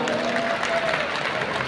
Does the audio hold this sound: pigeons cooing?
no